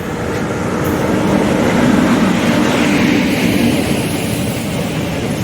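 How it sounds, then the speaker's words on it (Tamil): A train hauled by a WAP7 electric locomotive rolls into a station on the Tiruchirapalli–Uthamar Kovil line, giving a loud, steady rumble and rushing roar that holds close throughout with no talk. "இப்போ நம்ம ஏற வேண்டிய ரயில் வந்துடுத்து."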